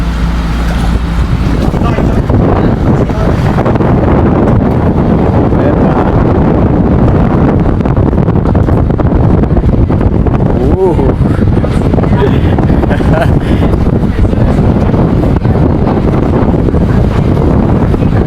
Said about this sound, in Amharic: ንፋሱን እና ማዕበሉን ልነግራችሁ አልችልም።